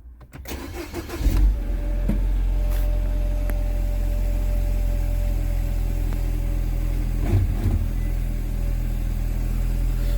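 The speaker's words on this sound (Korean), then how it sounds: "냉간 시동까지는 꼭 걸어봐야 돼요." A Mini Cooper engine cold-starts on a very cold morning, cranking briefly and catching, then settling into a steady, even idle with a small rev bump partway through.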